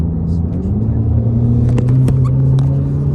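Subaru WRX with a CVT transmission and aftermarket intake, a loud close engine rumble that swells as it revs, with a voice briefly over it.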